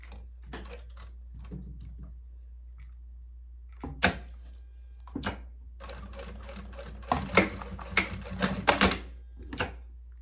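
A sewing machine stitches plastic onto a luggage tag, running in short mechanical bursts of rapid needle chatter separated by quiet pauses, the longest run near the end.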